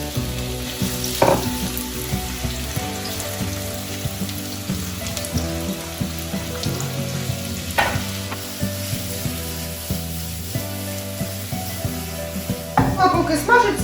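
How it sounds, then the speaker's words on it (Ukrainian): Chopped onion and grated carrot frying in a pan, with a steady sizzle that carries on throughout alongside a few louder clatters and some tonal background sound. "Беремо цибулю, нарізаємо її, втираємо морку і все це обсмажуємо на пательні."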